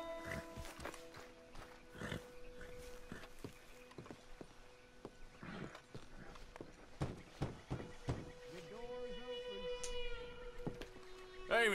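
Horse hooves clop and a horse whinnies in the Red Dead Redemption 2 video game, mixed with scattered footsteps and other game sounds at moderate volume.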